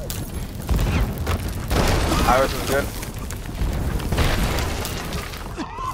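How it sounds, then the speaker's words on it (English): Cannon fire hammering a ship during a naval battle in Sea of Thieves, repeated heavy booms and crashing impacts over a dense roar, with players talking over the din. "keep hitting them with cannons if you can"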